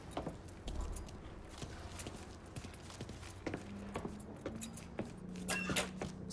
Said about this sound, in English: Hey, man, grab those keys.